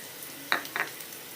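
Chilli drops into hot oil in a pan while making Vanjaram fish vadai, giving two short, close sizzling bursts over a quiet background.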